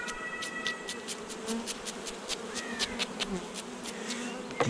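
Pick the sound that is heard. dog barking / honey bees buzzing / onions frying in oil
honey bees buzzing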